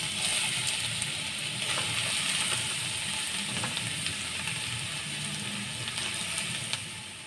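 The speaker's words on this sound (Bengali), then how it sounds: "এই গ্রেট করা গাজরটা দিয়ে দিচ্ছি" Grated carrot hissing in a pan with spices, a soft, steady sizzle with a few faint clicks and scrapes.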